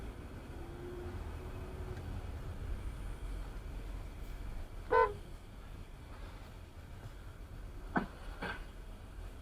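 A car horn beeps from a driver's car on a UK road, in short faint toots near the middle and end over a steady low road rumble.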